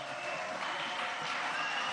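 Audience applause at the closing plenary of a political party congress, a brief dense patter of clapping from a crowd, steady and moderately distant, with no speech over it.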